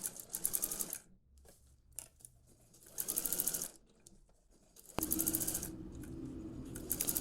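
Sewing machine stitching a western-style blouse with gathers, rapid mechanical needle bursts running in three loud spells of about a second each, separated by quieter pauses and handling, close and without talk.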